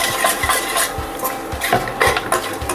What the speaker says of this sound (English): Make it dry roast with the fresh coconut.